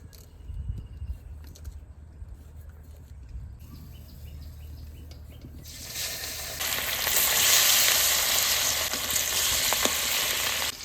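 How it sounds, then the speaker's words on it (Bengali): Hot mustard oil in a heated pan bursts into a loud, steady sizzle partway through, crackling and hissing continuously after a quieter stretch of faint kitchen sounds. "কড়াই গরম হয়ে গেছে এবার সর্ষের তেল দিয়ে দেবো"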